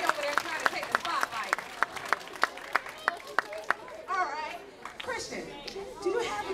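An audience at a children's talent show claps in a steady, sharp rhythm of about a dozen even claps, then breaks into loose chatter and children's voices.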